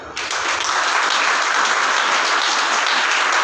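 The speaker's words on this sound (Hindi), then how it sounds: "उस जीवित परमेश्वर के लिए जोरदार ताली करके उसका आदर करो" Church congregation at a Sunday service breaking into loud, dense applause that starts abruptly and holds steady for several seconds, close and filling the room with no speech over it.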